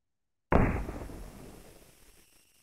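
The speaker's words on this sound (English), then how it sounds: "So that's single fire, very simple mechanism there." A single sharp gunshot-like mechanical report from a FAMAS F1 rifle firing one round in the World of Guns game simulation, loud and abrupt after silence, then decaying in a long tail.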